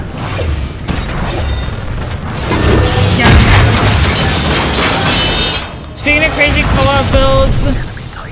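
Tracking missiles fire in the video game Titanfall 2 as a sustained barrage of loud booming launches and explosions with mechanical whirs, then a brief pause before more rapid bursts.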